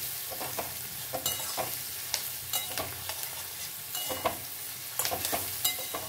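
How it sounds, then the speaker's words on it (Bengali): Onions or spices frying with a little sugar as they brown in a pan, with a constant close sizzle and a spatula scraping and tapping in irregular strokes, no voices. "এটা ভালো করে লাল করে ভেজে নেব"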